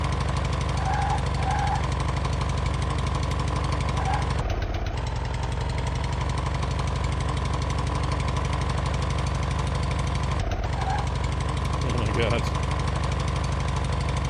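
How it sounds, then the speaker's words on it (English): A rattling, rough vehicle engine in the survival game Outbreak Island, a loud continuous jackhammer-like chug that drops out briefly twice, with a person talking over it. "I'm really curious to see if the sound of the engine changes if we upgrade this thing"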